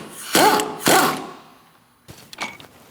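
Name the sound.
removing bolt from Chevrolet Sonic transmission mount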